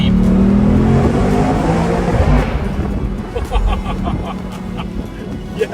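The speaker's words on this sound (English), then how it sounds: "One thing with this exhaust, it's such a deep and bassy sound" A 2020 BMW M8 revs hard, its deep, bassy exhaust roaring loud and close before settling to a lower rumble with a few crackling blips toward the end.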